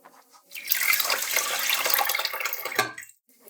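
Water pours steadily into a pot of uncooked jasmine rice for about two and a half seconds, a close, splashing stream that starts and stops cleanly.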